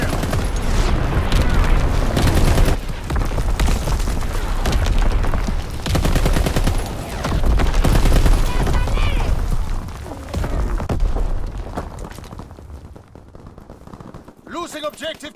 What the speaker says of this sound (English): Firing for full effect!